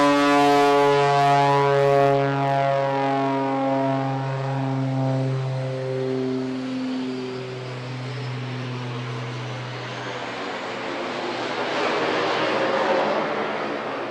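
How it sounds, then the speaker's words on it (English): A loud, high-pitched whine of two small jet turbine engines on an aerobatic aircraft at an air festival, steady harmonic tones sliding downward as it sweeps past, then a broad rushing roar. "Well, that is the noise of two very small little jet turbine engines"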